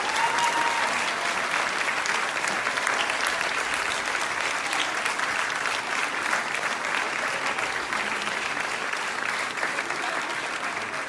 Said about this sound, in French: Encore un petit peu d'applaudissements alors.